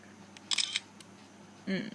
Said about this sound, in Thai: แล้วก็แชะ